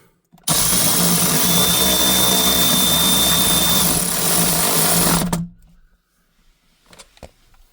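Power driver tightening self-tapping screws during a console vault install, heard as a loud sustained whine running about five seconds before it cuts off, followed by faint clicks.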